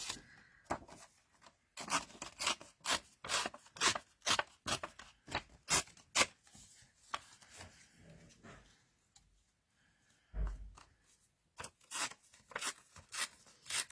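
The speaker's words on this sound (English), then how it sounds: "So I'm just tearing these into strips, basically." Paper pages and strips of lace tear in a run of short, sharp rips, some quick bursts and some slower, close and fairly quiet with pauses between.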